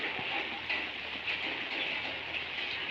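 Steady rain falls without pause, a continuous soft hiss that stays even and unbroken throughout, fairly close by, with no voices.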